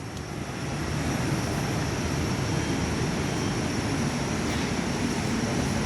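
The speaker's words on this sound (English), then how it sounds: "Air North's E170 is now departing Perth on 21." An Air North Embraer E170 jet departing Perth airport on runway 21, heard from an indoor viewing platform as a steady, continuous engine roar that swells slightly at the start and then holds, with no talking.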